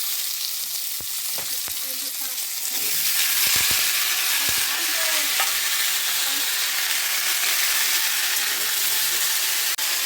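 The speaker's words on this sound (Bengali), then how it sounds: "কড়াইয়ে একটু সর্ষের তেল দিয়ে পোস্তর আলুগুলো হালকা করে ভেজে নিতে হবে" Diced potato cubes frying in mustard oil in a wok for aloo posto, a close continuous sizzle that swells louder partway through, with a few stirring clinks early on.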